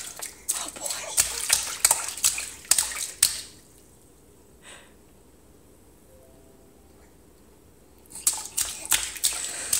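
A small child splashes water in a kitchen in repeated bursts of sloshing and slapping, then pauses for several quiet seconds with a faint drip before the splashing resumes energetically.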